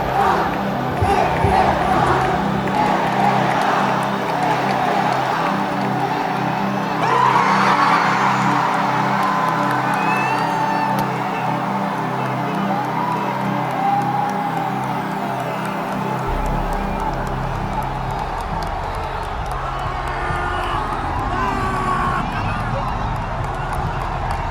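A large crowd in Kolkata cheers and shouts in a chaotic, continuous roar, loud and dense throughout with scattered whoops rising above the din.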